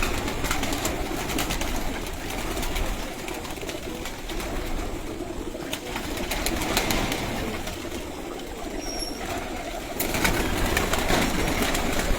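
A flock of pigeons coos in low, throaty murmurs amid a dense, noisy outdoor background with occasional fluttering.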